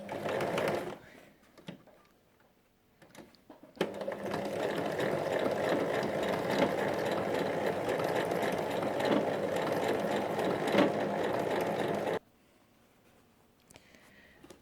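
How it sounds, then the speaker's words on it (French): A serger overlocks the edge of fabric and a zipper while making a strip-pieced cushion cover, its motor running in one steady, loud stretch of about eight seconds, with quiet handling noises before and after. "il faut surjeter le tissu et le bord de la fermeture à glissière"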